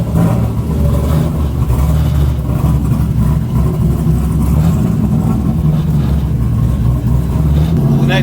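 An LS-swapped Mazda Miata engine idling, a steady low rumbling burble held at a constant level throughout, loud and close.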